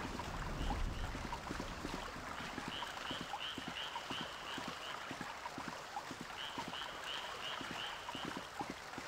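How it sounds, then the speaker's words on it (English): Frog croaks from the Resident Evil 3: Nemesis game world, repeated rhythmic croaking pulses in the distance over a steady ambient bed, with short chirping calls recurring at intervals and no talk. "Nice frog sounds in the distance."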